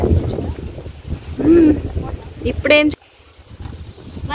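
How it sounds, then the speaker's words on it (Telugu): Outdoor wind buffets the microphone in low, rumbling gusts beneath voices for about three seconds, then falls away to a quieter background. "గాలి వస్తుంది, బాగుంది."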